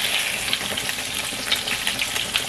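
Salisbury steak patties fry in grease in a pan, giving a steady, close sizzle with bright crackling pops and spits throughout, no voices.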